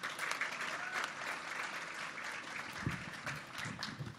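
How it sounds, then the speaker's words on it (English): Audience applause at a Marysville Tulalip Chamber of Commerce business breakfast event, steady clapping from a room of people lasting several seconds, moderately loud and fairly even throughout. "can we give Todd another round of applause?"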